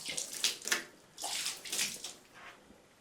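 Diluted Pine-Sol water splashed from a 32-ounce cup across shower tile, heard as several close, wet splashes in uneven bursts with short pauses between them and no talking.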